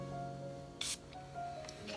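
A spray bottle gives a single short hiss of Van oil in a quiet indoor space, with a few fainter soft hisses and rustles after it.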